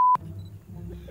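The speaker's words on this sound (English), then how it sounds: "You better have the beep button ready for me today." A brief pure-tone censor beep sounds loud and clean for a split second, cutting off abruptly into quiet room tone with faint low murmuring.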